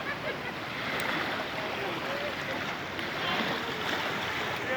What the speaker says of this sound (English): So now we are right at the riverside at the Narayani beach, and from here you can see the whole of the river